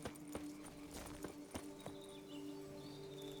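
Horse hooves clip-clopping in The Witcher 3: Blood and Wine, a brisk regular series of hoof strikes on a hard surface over a low steady game ambience, fairly quiet and not masked by talk.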